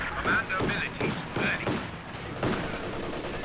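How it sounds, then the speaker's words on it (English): Rapid bursts of machine-gun fire from a bunker in a competitive video game match, several quick volleys across a few seconds at moderate loudness, mixed with other game sounds. "the machine gun bunker forces him away"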